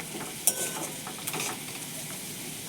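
Food frying in a pan is stirred for a simple home rice-and-dal dinner, broadband sizzle running steadily throughout with a sharp utensil scrape near the start and scattered soft scrapes, close and moderately loud, no talk.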